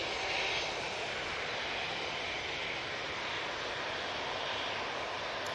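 Airliner powered by Rolls-Royce RB engines at Manchester Airport, a loud, steady broadband jet roar that stays constant throughout, heard close with no talking.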